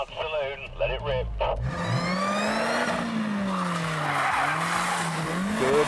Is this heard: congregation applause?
no